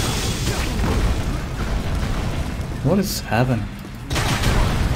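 Rumbling explosions and bursts of gunfire-like blasts from the online action game Continent of the Ninth Seal, a dense, loud, continuous barrage with a voice briefly talking over it.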